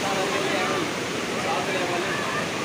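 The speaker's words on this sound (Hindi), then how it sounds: "ये पानी जो है ना ये वहाँ सहस्त्र धारा से ही बह के आती है।" Water rushes steadily at Sahastradhara, a broad continuous flow of stream water that stays loud and close throughout without breaks.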